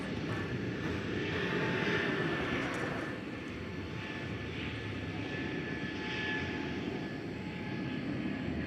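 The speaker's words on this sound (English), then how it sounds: "Meanwhile, we've got the Frontier flight going out." A Frontier airliner takes off at night at DFW Airport, a steady broad engine roar heard from a distance, swelling slightly and then holding even for several seconds.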